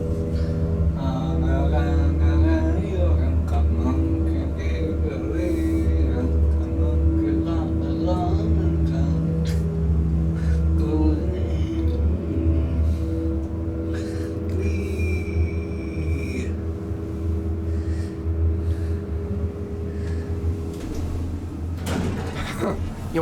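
Montgomery A-Series elevator motor at a mall, a steady low hum and whine running throughout, with people talking nearby and occasional door and mechanical clunks.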